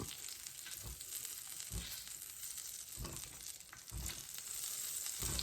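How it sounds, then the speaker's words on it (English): Sausages fry over medium heat in a pan, giving a steady, close sizzle with a few soft stirring or shifting thumps at intervals and no talking. "we cook these sausages on medium"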